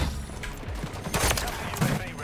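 Gunfire in a first-person shooter video game, with a sniper fired amid a burst of loud shots that crack sharply around the middle, over a busy game-audio backdrop.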